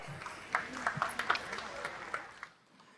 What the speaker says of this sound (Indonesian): Silakan tepuk tangan untuk Pak Anies Baswedan.